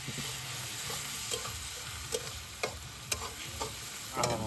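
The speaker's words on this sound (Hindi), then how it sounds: "अदरक लहसुन के पेस्ट पड़ते में, और एकरा भूने के" Ginger garlic paste sizzles and crackles in a hot pan, quiet and close, with a spoon occasionally scraping and stirring through it.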